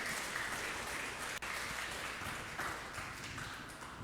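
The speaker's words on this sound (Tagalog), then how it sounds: "Lakasan natin yung palakpak para sa Panginoon ulit." Steady applause from a crowd, a dense wash of clapping that holds at an even level for a few seconds.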